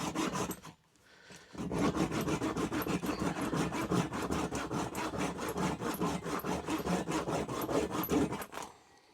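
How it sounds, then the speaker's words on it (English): A handsaw cuts through a small turned wooden gnome nose, with rapid, even back-and-forth rasping strokes close up after a brief pause at the start. "so we'll cut that off now"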